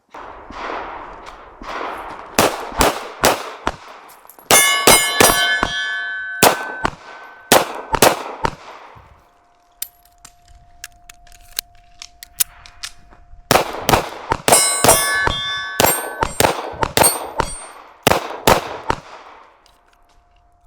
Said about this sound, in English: there's lots of gunfire in the background, so please, quoting Paul Harrell, please bear with the gunfire